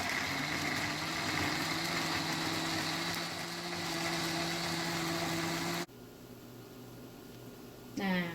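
A blender grinding spice paste for Indonesian yellow fish soup runs with a steady, droning motor whine, then cuts off abruptly, leaving quieter room noise and a brief sound at the end.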